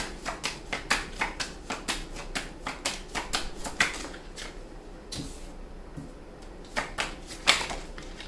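Tarot cards being shuffled and drawn by hand: a quick run of crisp, regular riffling clicks close by, a brief pause, then a few more card snaps, with no talking.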